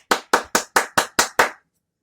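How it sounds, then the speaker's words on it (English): Seven crisp, evenly spaced hand claps ring out close and alone in quick succession, then stop, a sparse stand-in for an audience's applause. "Let's give him a round of applause for that."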